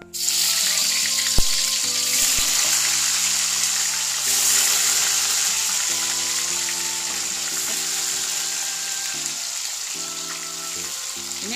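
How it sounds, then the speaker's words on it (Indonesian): Sliced tofu frying in hot oil, a steady close crackle and sizzle with occasional pops and stirring clatter, continuing without talk. "ini tahunya sudah saya potongi seperti ini ya atau sesuai selera aja ini mau saya goreng dulu"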